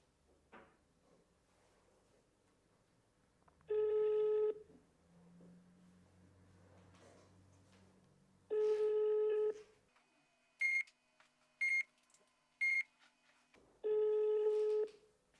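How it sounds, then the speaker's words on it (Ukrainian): A phone call to a supplier: three quick dial tones sound, followed by long, steady ringback tones in repeated bursts, clear and close, with faint background noise between them. "Так, телефонуємо наступному постачальнику."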